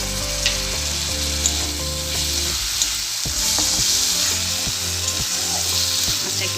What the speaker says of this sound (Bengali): এবার আমি এতে রসুনটা দিয়ে দিলাম।